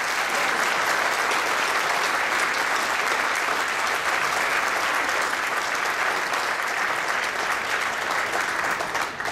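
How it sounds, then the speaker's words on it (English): Dense, sustained applause from the audience at a Georgia US Senate candidates' debate, a loud continuous wash of many hands clapping with no letup across the whole stretch. "Folks, let's give them a round of applause."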